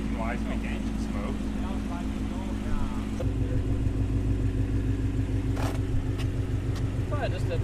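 A Shelby GT350 V8 with newly installed headers and exhaust idles in a shop, a deep, steady, throbbing rumble that thickens partway through, with people talking over it.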